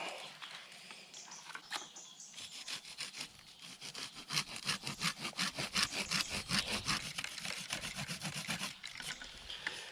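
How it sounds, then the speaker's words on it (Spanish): A hand saw cuts through the soft root of a bald cypress in a steady series of rasping back-and-forth strokes, close and fairly quiet, with faint birdsong in the background and no talking. "A ver si puedo meter el serrucho por ahí."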